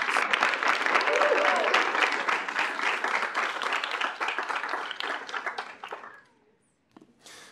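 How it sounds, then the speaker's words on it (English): A student audience at a Kansas State University student senate meeting applauds for a senator, a dense, steady round of clapping that fades out near the end, leaving a brief quiet gap. "So if we could give Madison a round of applause."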